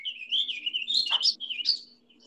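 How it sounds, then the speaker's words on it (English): A warbling vireo sings a brief, rapid, run-on warble of high twittering notes rising and falling, close and clear against a quiet background with a faint low hum. "And the warbling vireo."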